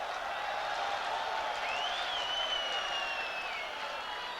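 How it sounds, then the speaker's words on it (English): A football stadium crowd in Vladikavkaz cheers and applauds at a Champions League qualifier, a steady distant wash of clapping and noise with no individual voices standing out. "most of them have stayed to cheer their team"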